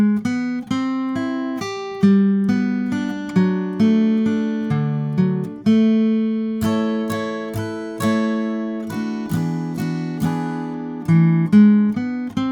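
Solo acoustic guitar plays a full bridge line of a song in succession, picked chords and ringing notes repeating in a bright, even rhythm, close-miked and without any voice.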